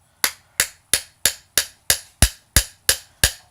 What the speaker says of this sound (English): I use the flat of my hammer, keeping the plate flat on my anvil or hard object.